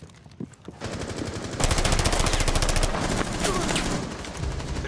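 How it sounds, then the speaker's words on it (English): Gunfire in Rainbow Six Siege, in a theme park team deathmatch: rapid automatic bursts rattle loudly and steadily for several seconds after a few scattered single shots, with brief pauses between strings. "They're shooting at us from left side."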